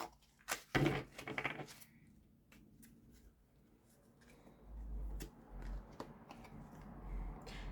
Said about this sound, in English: I'm gonna shuffle them again.